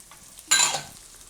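Peas and carrots hit a hot pan and stir-fry, a sudden loud sizzling burst that fades over about half a second, heard alone.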